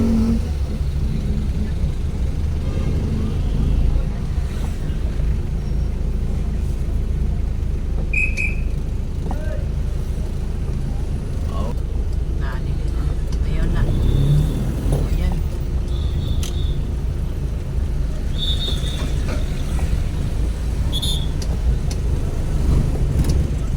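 Steady city street traffic in Iligan City, light to moderate flow, with a continuous low rumble of passing cars and motor vehicles, occasional revving and a brief whistle-like tone, and people talking over it throughout.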